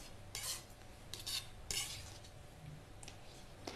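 A knife slices through a sea bream fillet for sushi on a cutting board, several soft, quiet scraping strokes in an irregular rhythm, close and faint.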